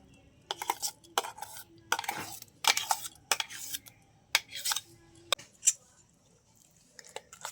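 A utensil scrapes and clinks against a pan or bowl in repeated uneven bursts while mango pulp is stirred into a soaked vermicelli mixture for a quick cake, close and fairly quiet with short pauses.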